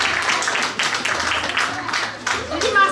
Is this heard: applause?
yes